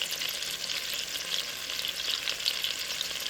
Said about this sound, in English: I like to pan sear and then roast